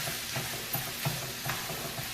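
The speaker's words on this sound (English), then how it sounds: "So once you have your onions in there, just fry them for a couple minutes" Steady soft sizzling of onions frying in a pan, with faint stirring scrapes and no voices.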